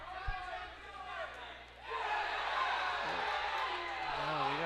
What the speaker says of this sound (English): we got some cheering now